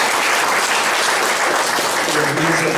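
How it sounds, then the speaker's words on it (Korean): Church congregation applauding during a Sunday service, a dense, loud burst of clapping filling the short stretch evenly from start to finish, with faint voices mixed in beneath it. "소개는 하지 말아 그러셨으니까 박수만 하겠습니다."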